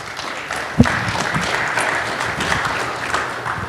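Conference audience applauding newly introduced sales executives, a steady broadband patter of many hands at moderate level with one sharper clap near the start, no talking over it.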